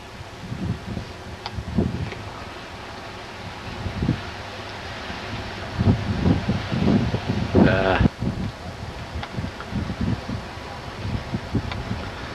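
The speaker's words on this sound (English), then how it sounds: "it's about 30, 40 miles an hour wind" Strong wind of about 30 to 40 mph buffets the microphone outdoors during a kite launch, a constant rushing roar with gustier bursts and muffled voices underneath.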